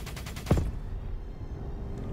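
A nail gun fires in the Black Ops 3 video game: a quick run of rapid shots ends in a sharp final burst, then quieter game ambience follows.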